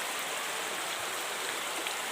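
Water trickles and seeps from the roots of a fig tree into a woodland stream, a steady, soft, broadband rush heard up close without pauses.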